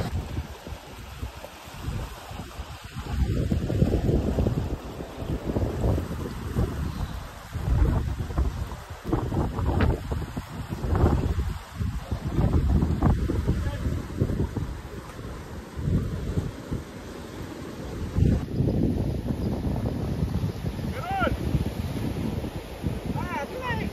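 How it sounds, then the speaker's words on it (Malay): Strong wind roars and buffets the microphone in heavy gusts on an island fishing trip, rising and falling, with rain-like hiss underneath and occasional voices. "Macam nak ribut ni. Angin kuat."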